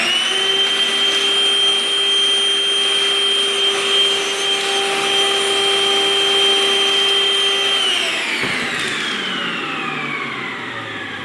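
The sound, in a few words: Milwaukee M18 cordless vacuum running, compact version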